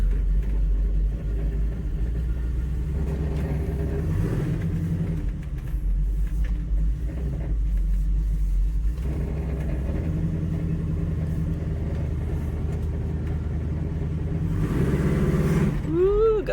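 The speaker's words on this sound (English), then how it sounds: "1968 Chevy Camaro. It's a little noisy," A noisy 1968 Chevy Camaro V8 with leaking header gaskets idles and rumbles close by, a deep steady engine drone with a brief rev swell near the end.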